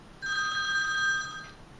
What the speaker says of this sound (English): at 6:30 p.m., your phone will ring